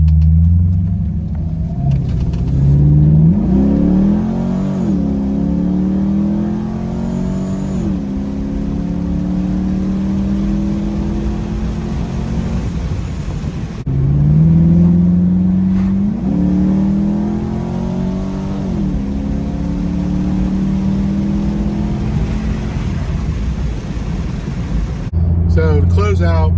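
A 2013 Chevy Caprice PPV, built by Holden in Australia, makes hard pulls down a street with the windows open, its engine surging through repeated rising revs and gear changes, loud and close with a steady road rumble beneath.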